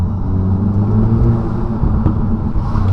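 Steady low engine rumble from a car fitted with an OEM plus induction kit while driving, a continuous droning hum with no talk over it.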